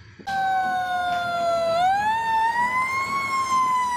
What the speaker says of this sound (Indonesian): Ini truk pemadam kebakaran teman-teman.